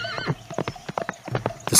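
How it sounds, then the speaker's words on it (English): A horse clip-clops away over hard ground, its hoofbeats loud and uneven, with a whinny and a sharp bright burst at the end. "the horse ran away."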